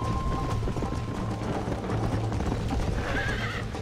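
Horse in the Red Dead Redemption video game whinnying, with galloping clip-clop hoofbeats running steadily underneath and a higher neigh near the end, loud and close.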